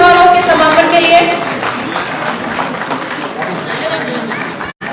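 Audience applause fills the hall at the close of a homeopathy award ceremony in Uttar Pradesh, a steady broad wash of clapping with voices and crowd noise mixed in, fading slightly before a brief drop at the end.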